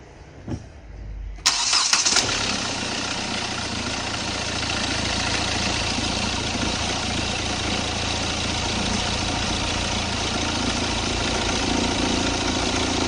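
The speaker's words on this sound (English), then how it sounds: "Just gonna start the engine up." A Hyundai i30 diesel engine cranks briefly and fires up after a fuel filter replacement, then settles into a steady, clattering idle that carries on close and loud for over ten seconds.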